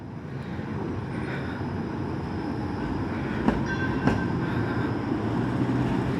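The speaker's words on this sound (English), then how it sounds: "That streetcar that just went by takes you all the way to the East End" A streetcar rumbles past on a city street in Toronto's Little Portugal on a summer night, giving a steady, moderately loud rolling roar with a couple of brief clanks midway and no talk.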